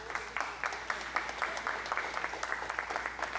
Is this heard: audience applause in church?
yes